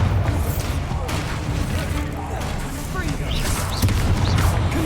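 Bombarda blasting spells go off in Hogwarts Legacy combat as a run of rough booms and crashes, some overlapping, amid dense game noise.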